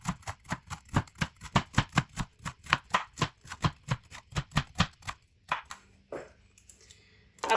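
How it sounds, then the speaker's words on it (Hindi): A knife cuts through stacked pieces of bitter gourd in quick, even strokes, about twenty close, crisp chops in steady rhythm. The chopping stops after about five seconds, followed by a few quieter handling sounds. "अब इनको ऐसे एक दूसरे के ऊपर रखें और माशाल्लाह कटिंग करें।"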